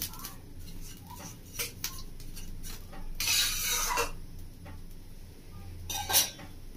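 Salt being dry-roasted and stirred in a pan with a metal spatula for a cashew roast, giving scattered clinks and scrapes with a louder scraping burst midway and another near the end, quiet and close.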